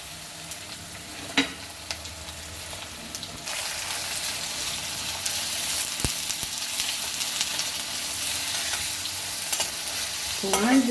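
Onion frying in a pan for a red chicken curry, a steady broadband sizzle that builds and stays loud throughout, with occasional clicks and stirring scrapes from the spoon.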